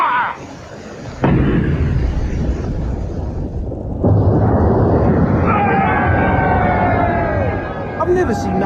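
Naval gunfire from a WWI vessel on Lake Tanganyika in a radio drama: a heavy boom at the start, then loud, dense rumbling blasts and debris roar, with a second surge partway through and whistling tones near the end.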